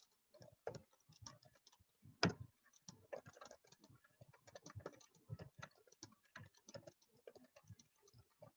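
Fingers tap a computer keyboard in quick irregular clusters while a short comment is typed during a math lesson, close and fairly quiet, with one sharper louder keystroke early on.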